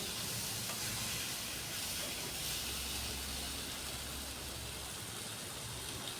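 Chicken with fried spices sautéing in a pan gives off a steady, dense hiss of sizzling that holds at an even level the whole time, with no talking.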